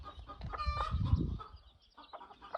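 Mother hens give a brief burst of clucks and throaty calls at close range, followed by softer scattered clucking.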